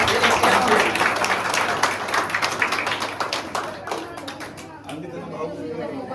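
A tour group claps hard and loudly, dense rapid clapping at first that thins to a few scattered claps, with chatter mixed in underneath.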